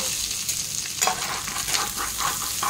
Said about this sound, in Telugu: చికెన్ అయితే కొద్దిగా ఫ్రై అయిపోయింది